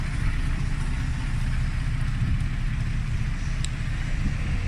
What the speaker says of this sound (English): I have the engine idling. It is barely warming up.